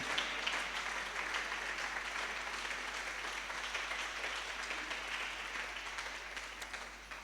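Steady audience applause at a scholarship event as a guest is welcomed to the stage, a dense wash of many hands clapping that holds evenly for several seconds at moderate distance.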